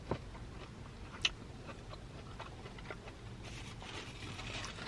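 Crunchy Wendy's chicken nuggets are chewed close to the microphone. Sharp crackling bites at the start and around the one-second mark give way to quieter, irregular munching.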